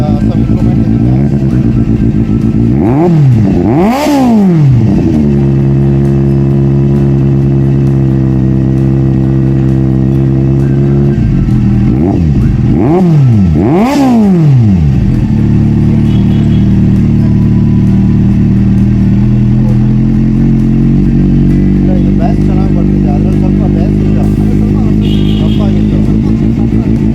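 Loud and close, a Kawasaki Z800 motorcycle idles through a repacked Two Brothers exhaust, with several quick throttle revs climbing and dropping before it returns to a steady rumbling idle.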